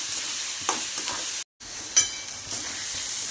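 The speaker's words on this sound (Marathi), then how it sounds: "हे बघा कांदा कसा लाल झालाय बघा अजून लाल होऊन द्या थोडासा" Onions fry in a pan and are stirred, a steady close sizzle with occasional scraping strokes and a brief cutout midway.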